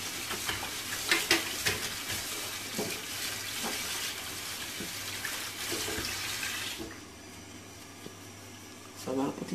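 Moringa leaves being rinsed in water by hand, with steady splashing and swishing that continues for several seconds and then thins out into a quieter tail with a few soft splashes.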